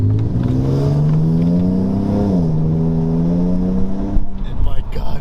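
A modded Nissan 370Z engine revs loudly and close, its pitch climbing steadily, briefly dipping, then holding a throaty drone before cutting off, with some rustling and handling noise at the end.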